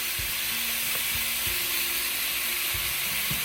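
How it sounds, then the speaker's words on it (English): Beef searing in hot olive oil makes a loud, continuous hiss and crackle, with a few dull low knocks from the pan scattered through it. "I'm going to put the beef in here and just kind of sear it"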